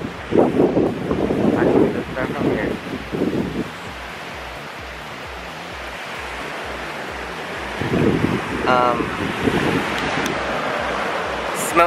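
Sea surf and wind at a beach in San Juan, Puerto Rico, a steady broadband wash with wind buffeting the microphone, and bursts of people talking nearby at the start and near the end.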